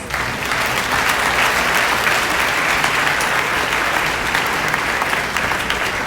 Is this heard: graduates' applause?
yes